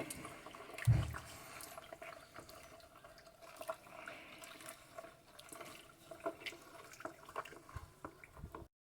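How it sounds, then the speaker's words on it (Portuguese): A spoon stirs mordant and bicarbonate into a basin of water for cotton fabric, giving faint, irregular liquid swishes and soft clinks after one louder knock near the start. "colocamos uma colherzinha de sopa na água e mistura"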